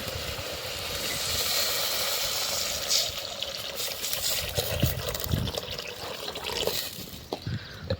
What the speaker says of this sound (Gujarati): હવે નાખું છું પાણી